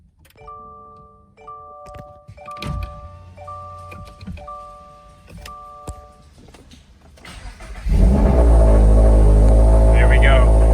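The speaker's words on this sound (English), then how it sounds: "we're gonna see if it starts right up" A brand-new Subaru BRZ, with a series of rhythmic dashboard warning chimes and clicks, then the engine cranks and fires up into a loud, steady idle roar.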